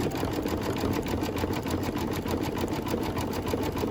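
An embroidery machine stitches a Halloween quilt block through a couple of layers of denim, giving a steady, rapid mechanical whirring and stitching that runs evenly with no other sound.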